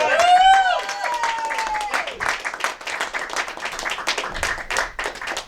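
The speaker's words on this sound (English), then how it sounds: "Give a round of applause for Mike Stricker!" A round of applause from an audience, lively clapping that starts after a high voice or whistle-like tone and continues in quick bursts, fairly close.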